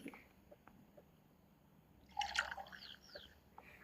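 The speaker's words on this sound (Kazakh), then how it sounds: "Бокалға құйып берейін." Milk poured from a container into a glass gives a brief gurgling trickle after a quiet stretch with faint drips, close and soft, with no talk.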